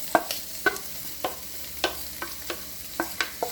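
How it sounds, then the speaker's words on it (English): Onion fries with chicken in a pan over medium heat, a soft sizzle under a series of sharp scrapes and clicks from stirring, about a dozen uneven strokes close by. "Now we're going in with our onion."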